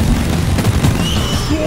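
Explosions boom in the video game Deep Rock Galactic, heavy low rumbling blasts with pops and bursts layered over one another across a short, loud stretch.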